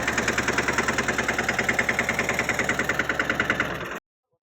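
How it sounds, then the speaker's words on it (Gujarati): A tractor engine idles in a farm field at wheat harvest time, with a loud, close, steady chugging pulse and a low rumble that runs without a break and then stops abruptly near the end. "અમારે અજયભાઈ તો ટ્રેક્ટર લઈને આવી ગયા છે."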